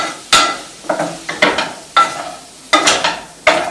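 Tomato is stirred in a frying pan that sticks, and it sizzles under sharp scraping strokes that come in a quick, uneven rhythm, each one loud and close.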